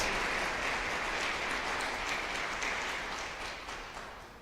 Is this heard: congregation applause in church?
yes